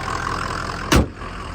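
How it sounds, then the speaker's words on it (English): A 2003 Ford Excursion's 6.0 turbo diesel engine idles nearby with a steady, rough mechanical rumble, interrupted midway by a single sharp thump. "Engine sounds healthy, and the truck drives great."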